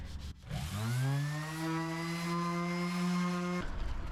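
A power sander with 180 grit sandpaper works the teak deck of a 30-year-old sailing yacht. It spins up with a rising whine, holds a loud steady tone, then cuts off abruptly.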